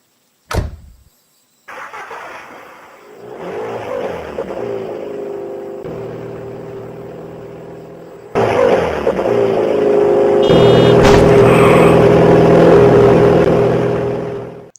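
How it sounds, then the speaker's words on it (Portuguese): In a video game, a car door clicks shut, then the engine starts and idles before revving up as the car drives away, growing louder and then fading at the end. "nós voltamos para o armazém e pegamos a chave de um carro que estava estacionado ali perto."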